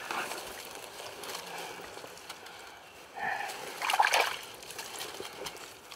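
Water splashing and sloshing as a freshly dug ring is rinsed off outdoors during metal detecting with a Garrett Pro Pointer AT, rising to a brief louder splash near the end over a soft trickling background.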